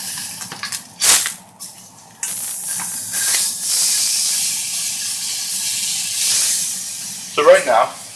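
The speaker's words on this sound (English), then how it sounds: "So right now, I've got my steak cooking at about half heat, since we've seared the sides and got that nice coating." Steak cooking in a pan at about half heat after being seared, giving a broad steady hiss and sizzle that swells and fades, with a few sharper crackles and brief knocks near the start.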